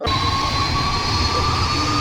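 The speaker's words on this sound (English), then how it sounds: "the first officer applies full reverse thrust, which does a cool thing to the engine." Full reverse thrust from the jet engine of an American Airlines Flight 96 DC-10 in a simulation, a loud steady roar with a sustained whine, continuous and close throughout.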